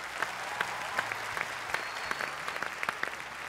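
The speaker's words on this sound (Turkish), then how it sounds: "rahmetli Kamil Sönmez'e büyük bir alkış alalım" A studio audience on the O Ses Türkiye singing competition claps in tribute to the late folk musician Kamil Sönmez, a steady, moderate patter with a few sharper individual claps standing out.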